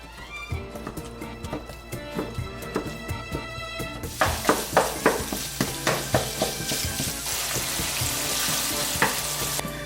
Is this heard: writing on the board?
no